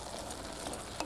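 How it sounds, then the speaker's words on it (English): Food sizzling steadily in a pan on an Amish home-cooking stovetop, with a brief clatter of stirring near the end, close and even. "Give this a stir."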